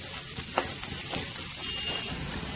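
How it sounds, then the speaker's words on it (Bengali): Three garlic cloves fry in a small amount of oil for a bean mash, giving a close, steady sizzle with a faint stirring sound and no talk. "তিন কোয়া রসুন রসুনটা তো আমি একটু তেলে নিই"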